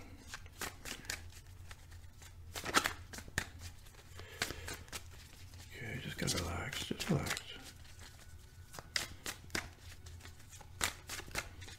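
Sharp, rapid riffling of a card deck shuffled again and again for a card reading, close and crisp, while a soft voice murmurs quietly.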